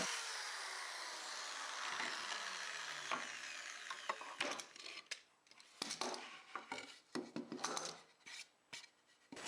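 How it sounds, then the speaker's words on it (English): A drill drives pocket hole screws into a pine step stool, a long steady whir that winds down, then a series of irregular clicks, knocks and ratcheting taps, close and fairly quiet. "I want to use pocket hole screws"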